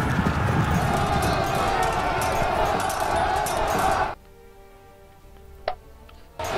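Cavalry horses charge in the battle game Pike and Shot at the Battle of Marston Moor. A thick, fast clatter of hooves runs with crowd-like battle noise, then cuts off abruptly to near quiet.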